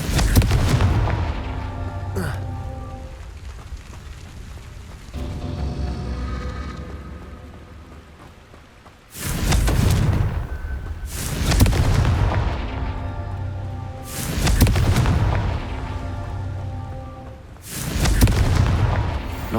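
Confringo explosive spell blasts in the wizarding game Hogwarts Legacy, a series of loud, booming detonations about every two to three seconds, each a sharp broadband burst with a rumbling decay, preceded by quieter ambient noise.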